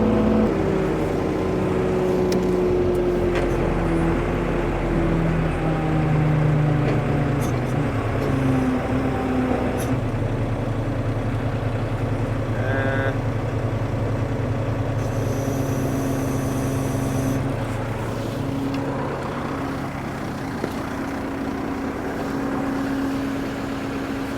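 A tow truck's engine runs steadily with a low, continuous rumble while it lifts a broken-down school bus by its landing gear, with a brief whine partway through.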